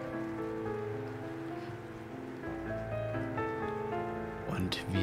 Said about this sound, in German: Draußen regnet es.